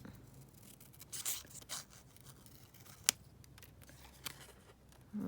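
Scissors cutting collage material down to fit a frame, giving a few quiet, scattered snips and rustles with one sharper cut in the middle.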